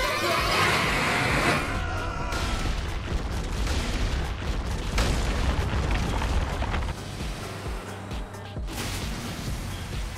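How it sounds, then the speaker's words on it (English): Boss rockets exploding in the game God's Will on hardcore mode, a dense continuous roar of booming blasts and crashing bursts, loud and sustained for the whole stretch with a slight drop near the end. "And he'll put out rockets."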